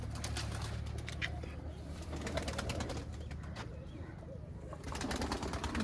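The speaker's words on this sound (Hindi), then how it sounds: "नीले रिंग हैंड में ये सियालकोटी कबूतर है" Sialkoti pigeons coo in a loft, soft throaty coos mixed with wing flutters and scattered chirps against a steady dense background of many birds, moderately near.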